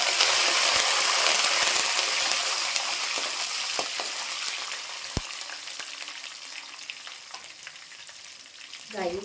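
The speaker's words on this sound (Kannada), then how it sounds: "ಸ್ವಲ್ಪ ಫ್ರೈ ಆದ ನಂತರ ಇದಕ್ಕೆ ಕರಿಬೇವು ಹಾಕ್ಕೊಳ್ತಾ ಇದ್ದೀನಿ" Curry leaves crackle in hot oil alongside milk-soaked puffed rice being fried, a bright sizzle that slowly fades, punctuated by sharp pops and stirring clicks.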